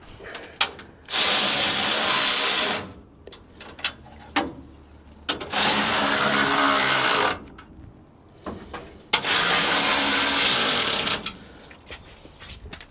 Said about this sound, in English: now we're gonna hold it right there and then tighten up these bolts